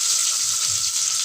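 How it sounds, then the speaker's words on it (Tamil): Onions and fennel seeds sautéing in a pan, a close, steady hissing sizzle with faint scraping underneath, brief and without any talk. "நல்லா பொன்னிறமாக வர வரையும் வதக்கிக்கணும்"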